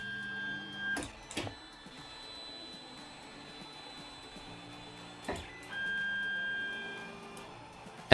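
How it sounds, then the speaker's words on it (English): A 3D printer auto-homing its axes gives off a steady motor whine and hum, with a few sharp clicks as the axes reach their endstops, heard close and alone. "We can also auto home the printer."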